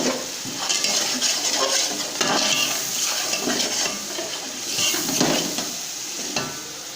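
Green chilies and tomatoes cook in a pan for chicken polao, making a soft continuous sizzle with intermittent stirring scrapes, close by and with no voices.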